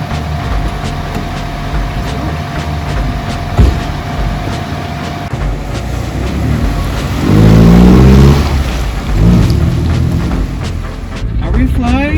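A late-1980s Toyota Corolla on a test drive, its engine and road noise droning steadily throughout, swelling louder near the middle as the car accelerates, with people talking inside the cabin.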